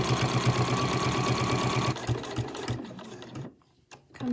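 A sewing machine stitches right along the edge of fabric ties in a fast, close, rhythmic run of needle clatter that slows and stops near the end, followed by brief handling noises.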